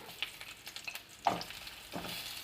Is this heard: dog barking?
no